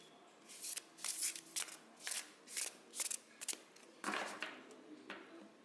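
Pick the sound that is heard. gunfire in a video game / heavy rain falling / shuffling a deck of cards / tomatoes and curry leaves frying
shuffling a deck of cards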